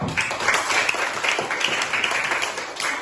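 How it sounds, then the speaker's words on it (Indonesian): A group of fourth-grade schoolchildren applauding in an elementary classroom, a burst of brisk, rhythmic clapping that fills the room for a few seconds. "Oke, tepuk tangan dulu."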